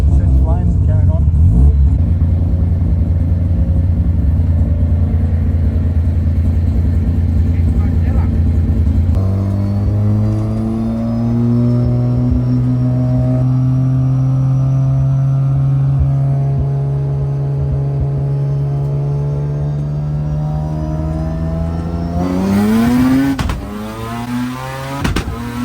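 A rotary-engined sleeper car drones loudly and steadily up close, its engine note rising gradually through a long pull before climbing sharply near the end, with speech likely mixed in under the engine.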